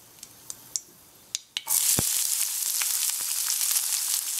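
Mustard seeds pop in hot oil with a few sharp, separate cracks, then onions and ginger land in the pan and a loud, steady sizzle takes over, close and continuous with occasional small pops.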